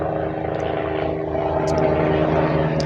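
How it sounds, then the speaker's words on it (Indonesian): Helicopter passing overhead in the open, a steady low rotor drone with harmonic hum that holds loud and constant throughout, with no talking. "Tumben lewat helikopter loh."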